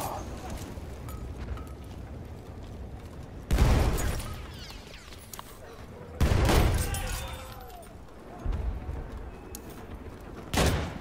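Heavy shotgun blasts in Battlefield 1 boom out at irregular intervals, three or four loud bursts with echoing tails over a busy battlefield background.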